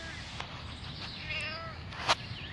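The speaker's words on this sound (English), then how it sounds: "This is a cat." A stray cat with a cut-off tail meows faintly a few times outdoors, with a sharper, louder cry near the end over low background noise.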